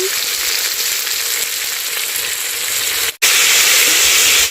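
Tomatoes, pepper and salt frying in a pan while village cooking, giving a loud steady hissing sizzle. It cuts out briefly and then continues just as strongly.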